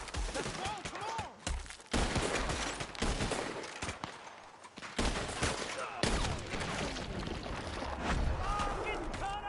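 Rapid bursts of Gatling gun fire in a Red Dead Redemption 2 shootout at a large house with a veranda, loud clattering volleys with short pauses, mixed with shouting and other game noise.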